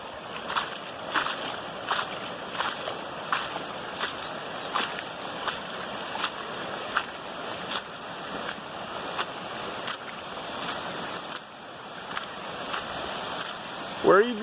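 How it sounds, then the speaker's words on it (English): Water from heavy rain runs in a waterfall outdoors as a steady rushing wash, moderately close, with faint rhythmic pulses and splashy bursts. "And then here's another waterfall that we don't often have."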